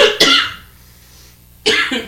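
A man coughs twice, sharp and close, with a quiet pause between the two harsh bursts.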